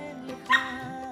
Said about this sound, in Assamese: ৰলি খালি ভুকি থাকে মোক